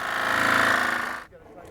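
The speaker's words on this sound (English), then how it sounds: "cut the opening using a jigsaw" A jigsaw cuts a downspout opening in a gutter, a loud, dense buzzing rasp held for about a second before it abruptly stops.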